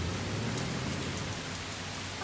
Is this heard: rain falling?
yes